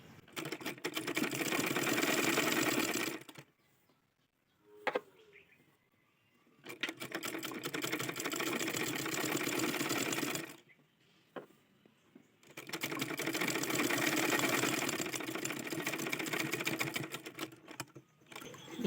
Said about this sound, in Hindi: ये हमने सिलाई लगाए हैं।